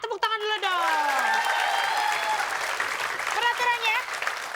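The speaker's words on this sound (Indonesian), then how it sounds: "tepuk tangan dulu dong" A studio audience at a TV comedy game show breaks into sustained applause and crowd noise for about four seconds, loud and dense, with a host's voice heard over the start and middle.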